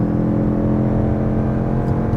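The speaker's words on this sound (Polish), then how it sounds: "wtedy ten silnik hałasuje, nie ma co ukrywać" Lexus NX 350h hybrid engine under hard acceleration from a standstill in normal mode, a steady loud droning hum with sustained low rumble and no voices over it.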